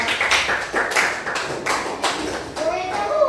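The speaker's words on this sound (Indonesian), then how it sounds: "tepuk tangan untuk kelompok 2" A class of students applauds a group after their presentation, with sharp, fairly loud claps in an irregular burst and children's voices talking over the clapping.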